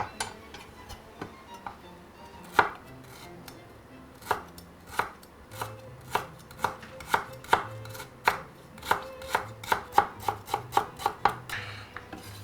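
A knife chops lemongrass on a cutting board in a kitchen, with sharp, close knocks that start sparse and then fall into a quick, regular rhythm, alone without talk.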